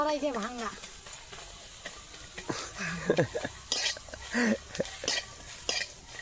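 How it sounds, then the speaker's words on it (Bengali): Mashed potato is stirred in a pan, with scraping and clattering utensil strokes and a light sizzle under frequent talk. "এখন হচ্ছে আমাদের রান্না হচ্ছে এখন আলুর নাড়া"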